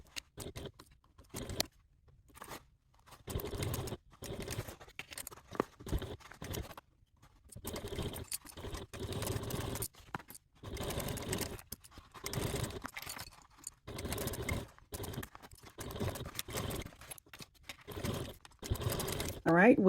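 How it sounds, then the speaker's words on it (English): Sewing machine with a piping foot stitching fabric in short bursts of rapid mechanical clatter separated by pauses, close up, with a person talking at times. "I am starting to sew 3 inches down from this top raw edge"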